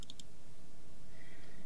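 Three quick mouse button clicks right at the start, crisp and close, followed by quiet background with a faint tone.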